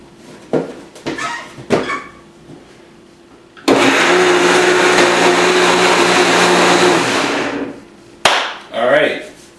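A household blender whirs loudly for about four seconds, blending a breakfast smoothie, preceded and followed by clattering knocks and handling noises in a kitchen.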